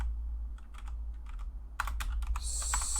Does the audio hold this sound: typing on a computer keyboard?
yes